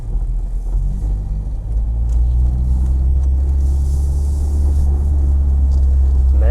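A 2.0-litre Renault 5 car accelerates hard, its engine building from a low rumble into a louder, sustained roar that swells toward the end, with no talk.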